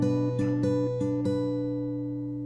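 Fingerstyle acoustic guitar opening the last chorus of a song: a few plucked notes in quick succession, then a chord left ringing and fading, close and quiet.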